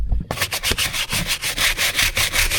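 A medium-hardness, short-bristle dish brush scrubs a mud-stained vehicle floor liner coated in cleaning chemical, making fast rhythmic back-and-forth scratching strokes, loud and close, about five per second after a brief quiet start.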